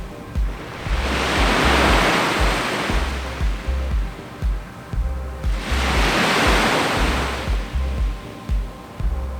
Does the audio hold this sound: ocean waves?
yes